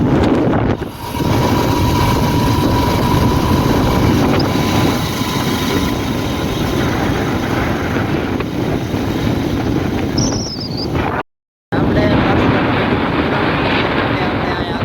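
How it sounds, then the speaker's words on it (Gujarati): Loud, continuous engine rumble and wind buffeting of a motorcycle riding along a village road, with one brief dropout in the sound. "અત્યારે રસ્તા ઉપર છે બાઇક હાંકી"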